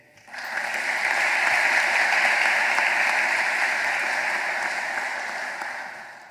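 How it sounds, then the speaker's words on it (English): Sustained applause fills a graduation ceremony hall, rising quickly into a dense, even wash of many clapping hands held for several seconds before slowly tapering off. "let's have a round of applause for the academic and support staff who laid the path for you to get here today"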